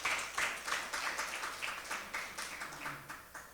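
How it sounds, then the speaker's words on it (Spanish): A church congregation applauds during a morning service, a fairly quiet, uneven ripple of clapping with rhythmic pulses that continues throughout, no speech on top. "Dele un aplauso al Señor en esta mañana."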